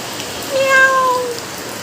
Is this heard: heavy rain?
yes